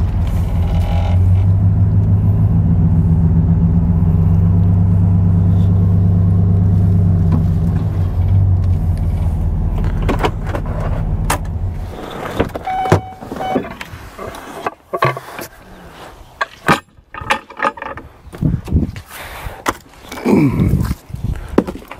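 Vehicle driving along a road while hauling logging gear, a steady low engine and road rumble for about twelve seconds, then breaking into uneven knocks, rattles and bumps as it slows.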